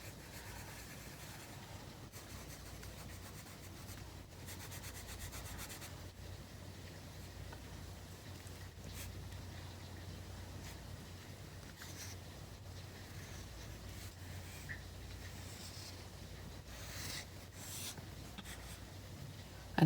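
Pencil sketching on paper in a sketchbook, a steady soft scratching and rubbing that runs almost unbroken for the whole stretch at close range, with no talking.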